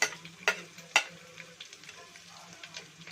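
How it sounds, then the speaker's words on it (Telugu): Ginger hitting hot oil in a pan during tempering for ven pongal gives a faint, steady sizzle broken by a few sharp crackles and clicks near the start, with no talking. "సో ఇప్పుడు అల్లం వేసుకుందాం."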